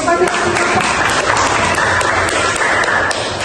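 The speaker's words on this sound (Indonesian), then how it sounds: "tepuk tangan dulu" Hands clap together in a classroom in steady, close applause that lasts the whole stretch, with voices talking underneath.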